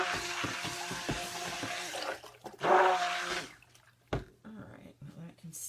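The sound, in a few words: rinsing a stick blender under running tap water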